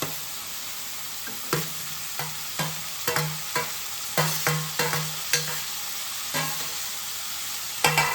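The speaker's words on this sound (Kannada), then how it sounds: "ಸೊ ನಾನಿವಾಗ ಇದಕ್ಕೆ ಹೀರೆಕಾಯಿನ ಆ್ಯಡ್ ಮಾಡ್ತಾ ಇದ್ದೀನಿ." Ridge gourd frying with onion and tomato in a pan, a constant sizzle broken by regular scraping strokes of a spatula stirring the mix, close and clear with no voices.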